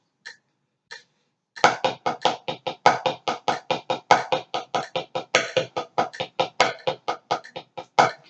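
Sticks on a practice drum pad playing five-stroke rolls in triplets: two isolated taps, then a steady, rapid stream of crisp, dry strikes in a rolling rhythm, close and fairly loud.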